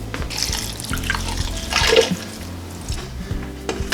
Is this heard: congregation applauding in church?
no